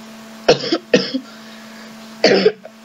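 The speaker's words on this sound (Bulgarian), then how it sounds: "Извинете за кашлянето, защото съм малко болен." Three harsh coughs from a slightly ill person, two in quick succession and then a third after a pause, close to the microphone over a steady low hum.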